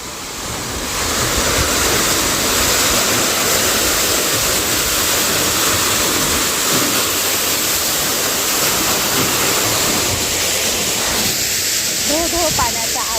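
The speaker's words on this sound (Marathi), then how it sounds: "धो पाण्याचा आवाज." Irrigation water gushes loudly and steadily across a garlic field, a continuous rushing flow close by with faint outdoor background.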